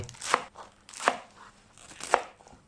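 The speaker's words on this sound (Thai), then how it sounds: "ก็ตัดเอาส่วนปลายออกก่อนเลยปุ๊บเข้าไป" Three crisp knife chops on a cutting board, evenly spaced about a second apart, as the end is cut off a vegetable while preparing Thai-style tom chap chai, close and clear with no talk.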